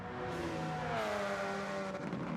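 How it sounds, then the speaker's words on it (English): A race car with a custom exhaust pipe drones loudly as its engine pitch slides down while lifting off, ending in a burst of rough crackling and popping, with no voices. "Popping and farting, that's the custom exhaust pipe."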